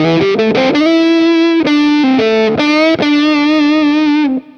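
A distorted electric guitar, a Stratocaster with a Klick Knob mod, plays a short phrase of sustained, buzzy notes, loud and close, with no one talking.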